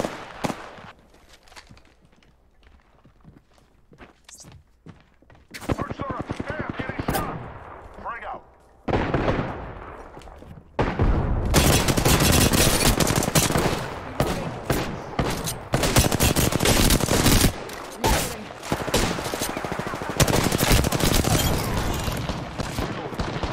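Gunfire in the battle royale shooter Apex Legends: after a quiet start, rapid automatic bursts and single shots erupt loud and close, nearly continuous through the second half, with in-game voice callouts mixed in.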